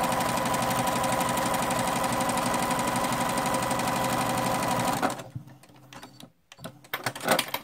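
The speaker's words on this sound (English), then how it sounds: "that's all you have to do is stitch down your trees" A sewing machine stitches down appliquéd quilt trees, running in a steady, rapid mechanical rhythm for about five seconds before stopping, followed by faint handling clatter.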